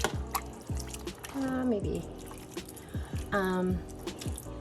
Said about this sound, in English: I'm gonna add like a half a cup of water.